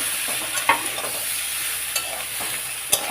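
Vegetables sautéed with spices in a pan, a steady close sizzle with a few sharp scrapes and clinks of stirring scattered through it.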